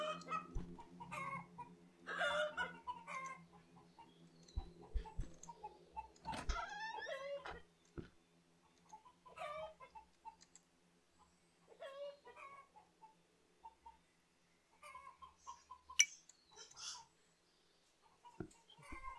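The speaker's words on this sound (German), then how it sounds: "die Hühner am Dach machen mich ein bisschen gaga" Chickens on a roof in the survival video game Survive the Nights cluck in scattered, irregular bursts, with one rooster-like squawk, over a quiet background.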